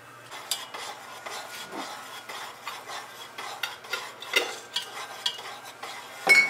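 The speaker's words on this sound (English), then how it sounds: "So we're just going to stir it up until it dissolves" Walnut milk mixture being stirred with a utensil against a bowl, a series of short scraping and clinking strokes at close range, steady and fairly quiet, with no voices.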